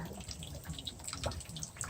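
A monkey plays in water spraying from a hose, giving a steady, close splashing and trickling for a couple of seconds with no talk.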